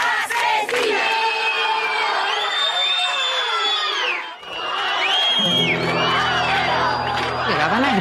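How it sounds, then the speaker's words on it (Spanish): An angry crowd yells and chants threats at women accused of being witches in San Fernando, a dense, loud wall of many overlapping shouting voices that keeps going, with some cries rising above the rest. "Llegaban a gritar, las vamos a quemar, por brujas, las vamos a matar."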